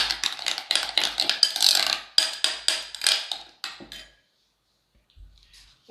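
Spices for a shawarma marinade, cumin powder among them, are stirred in a bowl, a loud close run of quick scraping clinks that stops abruptly, followed by near silence and a faint thud.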